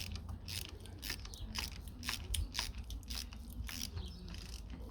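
Jack screws turn to push a reduction gearbox off a Renault Snecma 12T engine on a Dassault MD312 aircraft, producing steady close mechanical clicking and ratcheting with scraping metal contact throughout.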